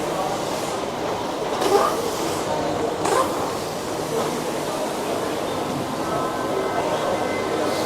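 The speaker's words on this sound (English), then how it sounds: "Okay, this is a train here." An airport train at Dubai carrying passengers toward the gates, a loud steady rumbling rush with a couple of brief clunks, heard from inside with faint voices in the background.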